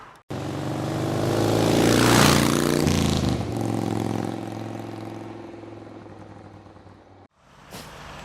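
Honda CRF 250 Rally motorcycle engine passing close by, rising to a loud buzzing roar then fading as it moves away, followed by a brief cut and a faint return.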